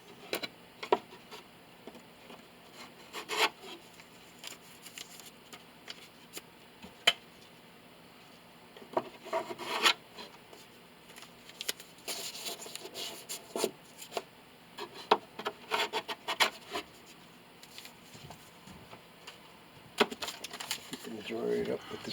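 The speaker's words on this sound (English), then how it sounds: "Dry it up with the scraper, and then we'll go around with the rag, get the last remaining bit." A scraper works excess glue off a cello during restoration, producing intermittent scratchy rubbing strokes in short bursts separated by quieter pauses, close and moderately soft.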